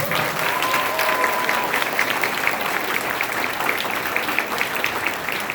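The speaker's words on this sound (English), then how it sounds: "Let's give him a round of applause" A crowd applauds steadily at a Q&A event with Andrew Yang, a dense, even wash of clapping lasting throughout with a faint voice briefly audible near the start.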